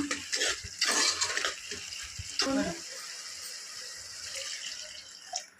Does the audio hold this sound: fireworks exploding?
no